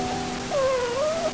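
A single short, rising-then-falling cat meow, clear and fairly close, over a low steady background hum.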